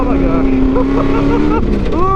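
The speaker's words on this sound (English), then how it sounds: "Over the whoops, and wide open throttle up to the top." A sandrail engine at wide open throttle powers up a hill and over whoops in the Glamis dunes at night, a loud, steady roar with rising and falling pitch sweeps and a voice talking over it.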